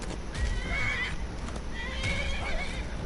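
A horse in the video game Skyrim neighs twice, each whinny a wavering, descending call, close and fairly loud over a steady game ambience with faint hoof clip-clop and no talking.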